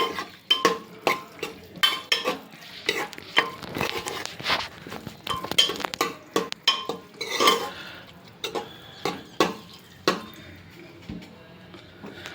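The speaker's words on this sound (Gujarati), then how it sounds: "આને એક મિનિટ માટે હું સાતળી લઈશ જેનાથી મસાલો અંદર બરાબર મિક્સ થઈ જાય" Soya keema mixed with masala being sauteed in a pot for Surti veg tapelu, with repeated close clinks and scrapes of a metal spoon against the pot over a faint sizzle.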